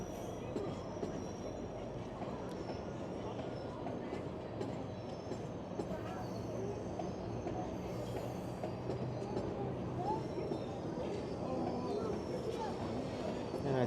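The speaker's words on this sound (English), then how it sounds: "A GO train and the Up Express. Looks like they're drag racing." A GO commuter train and an UP Express train roll past together, a continuous rumble of wheels and rail clatter with occasional squeals throughout, steady and fairly close.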